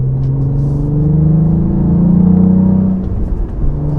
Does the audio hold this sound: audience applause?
no